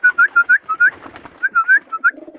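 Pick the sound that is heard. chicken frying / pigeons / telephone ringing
pigeons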